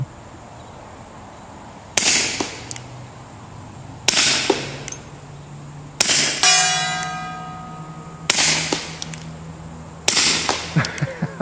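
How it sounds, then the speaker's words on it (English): Five rifle shots ring out on a steel gong target at even two-second intervals, each sharp crack followed by a bright metallic clang that rings and decays, one strike leaving a long shimmering tone. "let's smack the gong"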